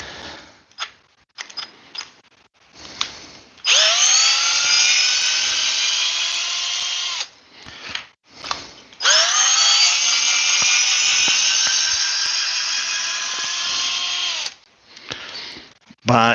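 Hercules and Makita cordless drills, the Hercules on a 4 amp-hour battery, whirring in two long bursts that ramp up in pitch and hold, preceded by several short trigger blips, close and loud.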